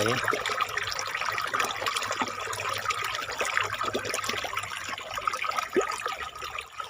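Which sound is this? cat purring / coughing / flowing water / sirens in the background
flowing water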